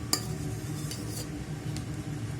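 Whipped egg whites folded gently into semolina cake batter in a bowl, soft slow swishing strokes with a light clink of utensil on the bowl at the start and a few faint taps.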